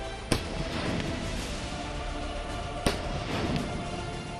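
Two sharp firecracker bangs about two and a half seconds apart, set off outdoors to scare away man-eating wolves from a village, each a brief loud crack over steady background noise.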